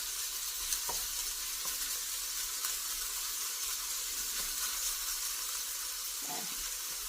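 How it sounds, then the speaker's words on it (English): Beef strips laid in a single layer searing in a hot pan for lo mein, giving a steady, close, loud sizzle and hiss that runs throughout with a few faint stirring clicks. "Give it a chance to sear, you know, brown a little bit before you start moving it around."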